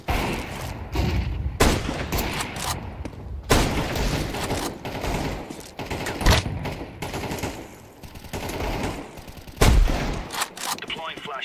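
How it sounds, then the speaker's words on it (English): Video game firefight with repeated gunfire bursts and loud bangs, including a flashbang grenade blast, sharp transients recurring every second or two over dense background noise, with a voice talking at times. "Deploying flashbang."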